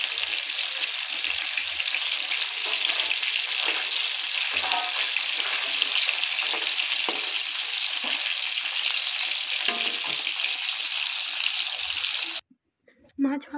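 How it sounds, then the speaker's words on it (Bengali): Koi fish frying in hot oil, giving a dense, continuous loud sizzle with faint crackles, steady and close throughout before cutting off abruptly near the end. "মাছ ভাজা হয়ে গেছে"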